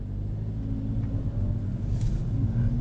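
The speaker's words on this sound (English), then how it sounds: "I'm giving it a little bit more gas." A 2021 Kia Forte with a manual transmission, its engine steady and rumbling at low revs and then given slightly more gas as the clutch releases and the car pulls away.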